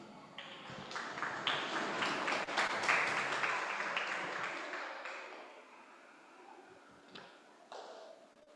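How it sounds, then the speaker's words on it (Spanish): A small church gathering applauds, clapping swelling up quickly and then fading away over several seconds, with a few scattered knocks and taps afterward. "Denle un aplauso al Señor."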